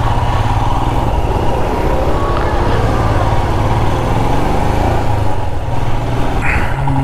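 A Royal Enfield Himalayan BS6 motorcycle engine running steadily up close, a loud continuous rumble with no clear change in pace.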